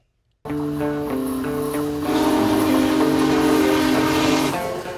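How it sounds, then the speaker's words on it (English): A Big Boy steam locomotive, the world's largest, sounds its chime whistle loudly and steadily in the Feather River Canyon near Portola, California. The whistle swells partway through, and there is no talk. "a train ride through the Feather River Canyon on the world's largest steam locomotive, the Big Boy"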